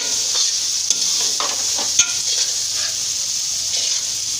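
Peas and potatoes fry for a mixed-vegetable pulao, giving a continuous bright sizzle with soft scraping strokes as a spoon stirs them close up.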